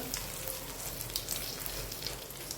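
Mustard seeds, cumin, asafoetida, chili and bay leaf sizzle in hot oil over a full gas flame for an eggplant bharta. The frying is a soft, steady, close crackle with small pops and no talking.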